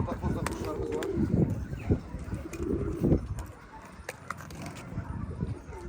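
Quails on a farm, birds raised in cages and now let loose, give soft cooing calls at close range, scattered through the clip among rustling and occasional talk.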